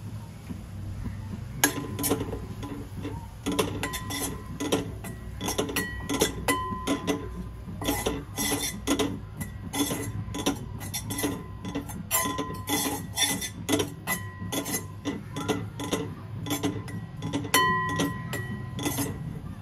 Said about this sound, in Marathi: हे बेसन छान भाजून घेऊया।